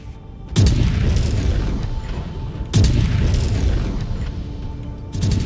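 Destroyed targets explode in MechWarrior 5: Wolves of Tukayyid, three loud, deep booms spaced a couple of seconds apart, each with a long rumbling decay.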